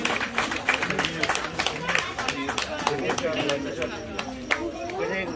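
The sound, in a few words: audience applause for the honoured guest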